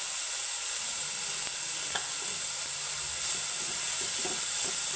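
Spinach fries in a pan with turmeric, salt and mustard seeds, giving a continuous soft sizzle and hiss, with light scrapes and taps of stirring scattered through.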